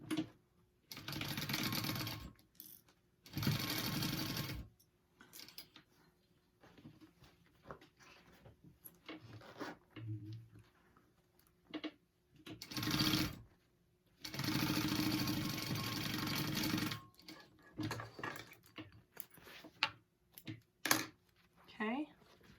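A sewing machine stitches a clutch wallet in several loud, close bursts of rapid mechanical whirring, with pauses and handling noises between runs and a voice talking now and then.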